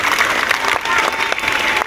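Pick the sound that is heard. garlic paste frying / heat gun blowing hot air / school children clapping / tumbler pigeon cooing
school children clapping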